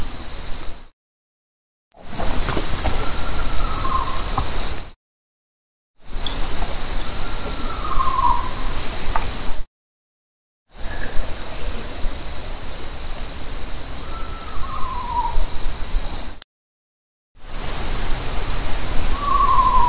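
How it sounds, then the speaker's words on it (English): Several separate recordings of an owl hooting at night, each set against a steady insect or cricket drone, with faint descending calls in each segment and short silent gaps between them. "I think there's 5 total owl clips."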